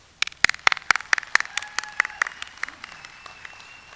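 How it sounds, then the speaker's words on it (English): Scattered claps ring out at a high school graduation ceremony, a thin patter of individual hand claps from a small group that starts sharp and gradually tapers off, fairly quiet and without talk. "Let's take a moment and celebrate them with a round of applause."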